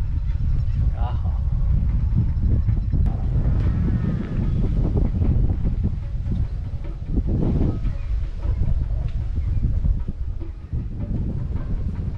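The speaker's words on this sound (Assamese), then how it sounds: "বহুত ধুনীয়া বতাহ মাৰি আছে" Strong, steady wind buffets the microphone at a hilltop Shiva temple in Morigaon, a loud continuous rumble throughout with faint voices beneath it.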